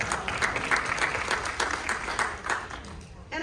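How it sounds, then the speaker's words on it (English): Audience applause at a congressional town hall in a community venue, a lively crowd clapping steadily with a few voices mixed in, thinning just before the end. "That's a round of applause."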